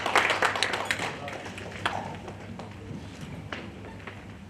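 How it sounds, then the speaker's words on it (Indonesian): A church congregation claps for the youth worship team at a Sunday service, a brief scattered round of applause that fades quickly in a reverberant hall, with talk underneath. "Kita berikan tepuk tangan dulu untuk Youth Present Worship"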